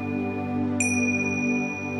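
A single bright notification bell ding rings out once near the middle, its clear metallic tone lingering and fading over a soft, sustained musical background.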